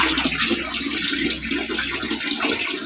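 Tap water runs steadily while dishes are washed by hand, a continuous broadband splashing and hiss that stays fairly loud and close throughout, with faint clinks underneath and no talking.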